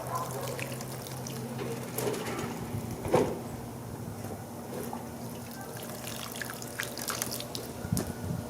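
Water drips and trickles onto seed-starting soil being moistened for winter sowing, a soft steady patter with a few louder splashes, close by and alone with no talk.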